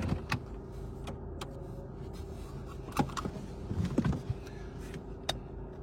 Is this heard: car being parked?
yes